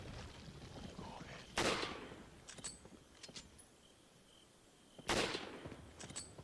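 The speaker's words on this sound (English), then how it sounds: "I shot him in the back, he didn't even flinch." Gunshots fired in the video game Resident Evil 4 sound as two sharp, loud cracks a few seconds apart, set against a constant low in-game ambience with some scattered clicks.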